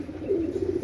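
Pakistani high-flying pigeons coo softly in a short, faint burst of low, throaty warbling, with no talk over it.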